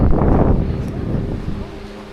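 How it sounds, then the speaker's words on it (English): Cold wind gusts buffet the microphone out in the open on a hiking trail, a steady rushing roar that is strongest at first and gradually eases off. "That wind is quite cold."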